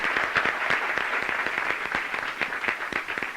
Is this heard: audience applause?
yes